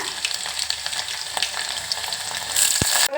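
Garlic, crushed lentils and curry leaves sizzle in hot oil for a tiny Kannada-style sambar tempering, a steady close crackle with brief spits and a sharp pop near the end.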